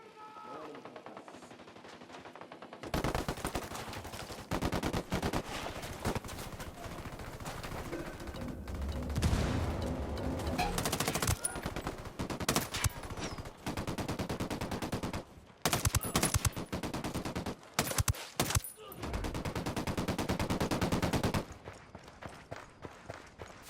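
Video game gunfire from Ghost Recon Wildlands: long bursts of automatic weapons and rapid shots during a firefight, loud and dense, with brief pauses and footsteps between volleys.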